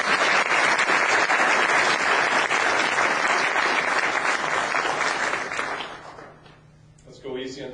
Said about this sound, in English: How about a nice round of applause for that?